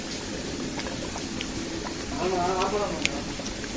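A pot of mutton boti masala bubbles and simmers on the stove, a low continuous boiling hiss with a brief swell of burbling near the end, fairly close.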